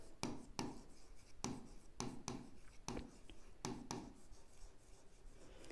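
A pen writes on paper while an accounts ledger entry for a customer, dated the 28th, is filled in, giving a series of sharp scratchy strokes and taps in an irregular rhythm, close and fairly faint, with no talking.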